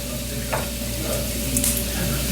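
Frozen Jimmy Dean sausage sautés in a pan, producing a steady close sizzle with faint scraping stirs.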